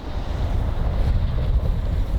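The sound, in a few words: river bank outdoors with wind and water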